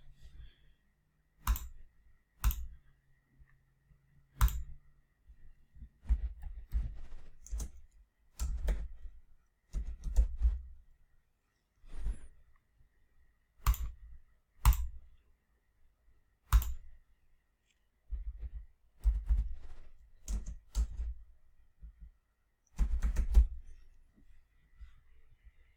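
A computer keyboard being typed on and clicked, with sparse, sharp clicks and small bursts of keystrokes at irregular intervals, close by and quiet against a silent background.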